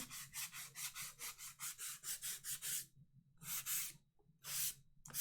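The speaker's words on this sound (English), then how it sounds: "I brought a sanding block" A sanding block rubbed over foam cosplay armor in quick back-and-forth strokes, close and dry, a rapid run of about a dozen passes, a brief pause, then a few heavier strokes.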